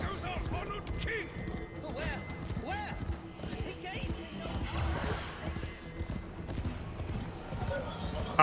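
A horse's hooves clip-clop at a brisk gallop in the video game Warframe, with occasional whinnies and game effects. Someone talks over the hoofbeats.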